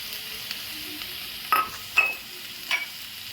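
Spice mix with turmeric and ginger being fried and stirred in a pan for a potato curry, a faint low sizzle with a few sharp utensil scrapes and clinks against the pan.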